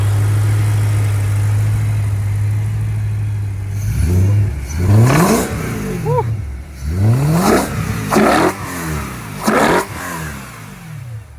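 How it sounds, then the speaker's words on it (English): A straight-piped BMW engine idles with a deep, low drone, then revs hard several times in loud, close bursts, and a voice whoops between the revs. "you see people say you can't straight pipe BMW. Right, this is straight pipe, guys."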